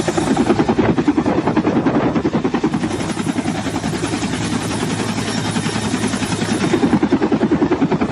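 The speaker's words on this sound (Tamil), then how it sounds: "இந்திய விமானப்படைக்கு சொந்தமான MI-17 ஹெலிகாப்டர் மூலம் மீட்கப்பட்டனர்" An Indian Air Force Mi-17 helicopter flies close by during cyclone flood rescues in Sri Lanka, its rotor beating in a loud, steady, rapid chop that continues without a break.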